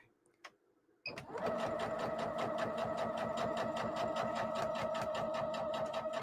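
A sewing machine starts up after a moment of quiet and runs steadily, back stitching with a fast, even mechanical chatter close by.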